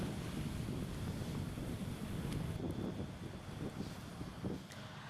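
Strong wind and high waves at sea in the Bali Strait make a constant roaring rush. Heavy buffeting on the microphone surges and eases, and the noise stays loud and unbroken throughout.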